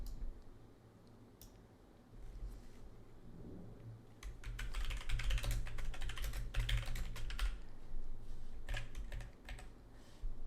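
Typing on a computer keyboard, with soft scattered key clicks at first, then a dense, steady run of keystrokes in the second half, fairly quiet and close, with no talking.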